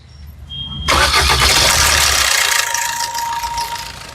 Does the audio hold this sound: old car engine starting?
yes